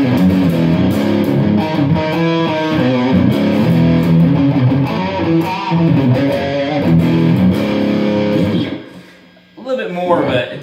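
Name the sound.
electric guitar through tube amp overdrive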